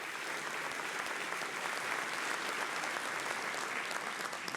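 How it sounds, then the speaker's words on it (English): Steady, sustained applause from an audience at the grand opening of an equine teaching center, a dense even wash of many hands clapping at moderate distance, continuous without pauses. "Please give them a round of applause."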